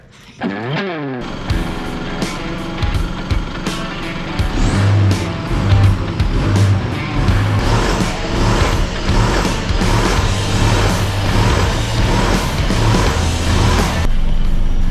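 An Isuzu with a tuned 4JJ3 diesel engine drives off, a steady vehicle rumble building after a starting clatter and mechanical rattles, heard from inside the cab and fairly loud throughout.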